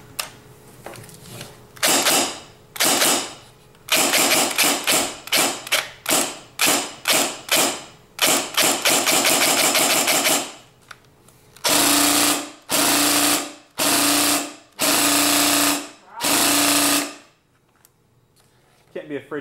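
An airsoft G36C cycles its tappet plate in rapid mechanical bursts. Short and long strings of fast clacking stop and start, close and loud, with pauses between bursts.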